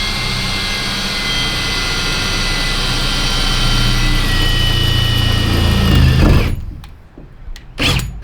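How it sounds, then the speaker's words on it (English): A power drill boring pilot holes through the metal body of a Sprinter van for window installation, a loud steady whirring roar that cuts off abruptly near the end, followed by a few clattering knocks. "So I might do a couple little pilot holes just to make sure,"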